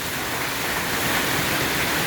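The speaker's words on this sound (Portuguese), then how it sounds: "Mais uma tempestade enorme de chuva, com pedra de granizo" A heavy rainstorm with hailstones and a strong wind batters a schoolyard, making a loud, steady, dense roar of pouring rain and wind throughout, with no voices.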